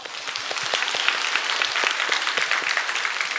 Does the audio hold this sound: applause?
yes